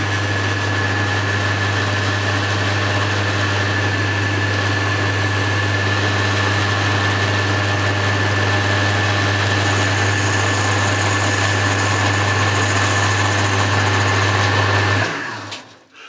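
A metal lathe turns steadily while cutting a chamfer on the outside of a headstock handle, a constant loud motor hum with a high whine, running alone without a break until it stops abruptly near the end.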